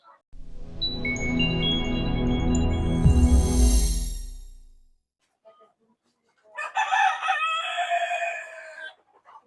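Tiger and Fayoumi chickens at a poultry farm: a rooster lets out a long, loud crow, then after a short pause more crowing and clucking follow close by, with no talk.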